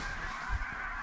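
Geese honking during a duck hunt in snowy Wyoming, a short burst of calls from a large flock heard against wind and open-air background.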